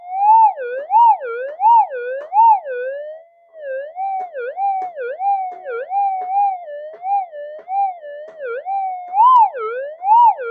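A Minelab GPZ-7000 metal detector reacting to solder joints in its coil gives loud, close warbling tones that rise and fall in quick wavering bursts, with a brief gap, then keeps wobbling steadily.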